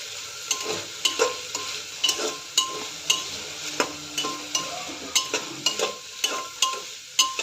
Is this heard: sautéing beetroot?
yes